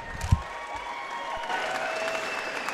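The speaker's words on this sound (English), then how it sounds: "Applause together for both of the fighters in the center of the cage." A crowd at a professional mixed martial arts fight night in Kingston applauds both fighters in the cage, a fairly distant, steady wash of clapping and cheering with a brief thump near the start and a faint tone under it.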